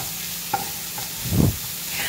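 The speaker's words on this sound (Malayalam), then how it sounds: "ക്യാബേജ് വീണ്ടും നമുക്ക് ഇളക്കാം." Chopped cabbage for momos is stirred in a pan: a few scraping strokes, with one fuller, louder stir near the end, over a soft steady frying hiss. No voices.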